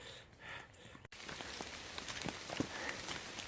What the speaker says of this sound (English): It's pretty fortunate the first hour the rain held off, and then the rain started.